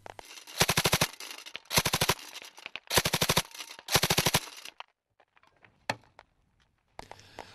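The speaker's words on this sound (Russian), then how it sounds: "Это стрельба из всех видов штатного оружия" Soldiers of a Northern Fleet reconnaissance unit fire automatic small arms at a training range: four sharp bursts of rapid shots separated by short pauses, then sparse single cracks and a final burst.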